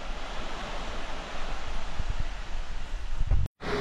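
Sea waves washing against a rocky shore under coconut palms, a loud continuous rushing surge with heavy wind buffeting on the microphone, cut off abruptly near the end.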